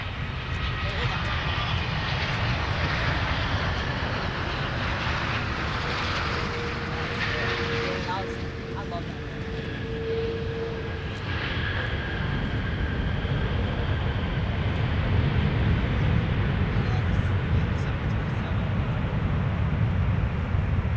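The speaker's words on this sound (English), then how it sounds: "we'll take another look at Delta 165 touching down from Amsterdam" Delta 165 from Amsterdam lands at Minneapolis airport, its engines a continuous broad roar that builds toward the end, with radio chatter and talk over it.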